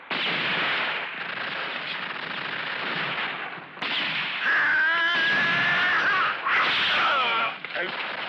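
Machine gun fire in a 1971 western film, sustained loud bursts of rapid fire with a brief break, mixed with shouting voices and sharp ringing ricochet-like whines.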